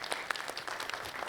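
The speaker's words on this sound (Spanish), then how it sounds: "Denle un aplauso al Oscarito" A church congregation applauding Oscarito for leading Sunday worship, a brief burst of many hands clapping, fairly close and steady with no talk over it.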